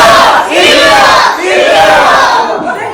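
Onam celebration crowd shouting a loud, sustained arppuvili cheer together, the voices rising and falling in waves close by with no pauses.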